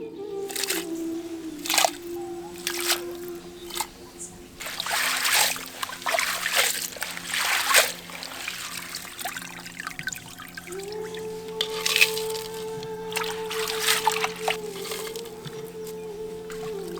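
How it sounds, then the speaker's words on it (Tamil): Crab pieces being washed in a vessel of water, with intermittent splashing, sloshing and dripping at close range, fairly quiet over a low steady background hum. "இப்போ நண்டை தண்ணியில் போட்டு சுத்தமாக கழுவி எடுத்துக்கலாம்."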